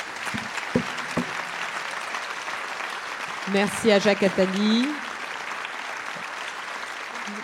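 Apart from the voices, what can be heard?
audience applause for Salman Rushdie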